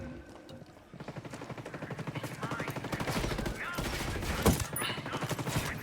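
Gunfire in the video game Ghost Recon Wildlands: rapid bursts of automatic fire rattle loudly in quick succession, with one sharper shot standing out near the end.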